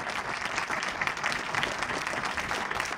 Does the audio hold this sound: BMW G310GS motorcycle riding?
no